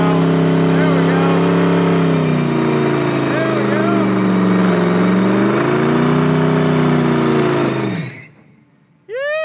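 A pro street car on a road trip runs loud and close, its engine droning and swelling in pitch as it revs, then cutting off abruptly near the end, followed by a brief high chirp.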